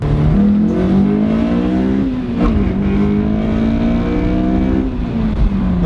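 A Honda S2000 with a new intake revs loudly and steadily, its pitch climbing and dipping through several pulls, up close with a throaty, sustained drone.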